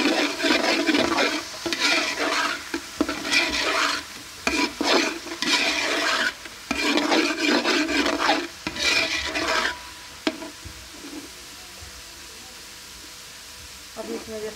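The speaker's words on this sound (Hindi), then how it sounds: "अभी हम इसमें थोड़ा थोड़ा पानी डाल के इसको भूनेंगे।" Chicken fried rice sizzling and frying in a pan, with repeated bursts of stirring and scraping alternating with brief pauses, the cooking noise loud and close before settling into a quieter steady sizzle.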